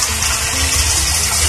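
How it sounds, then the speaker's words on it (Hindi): Water poured into a kadhai while cooking Bengali-style arbi, a steady broadband gush and splash that fills the whole moment at close range, with no talk. "अब हम इसमें 1 टेबल स्पून पानी और ऐड करेंगे।"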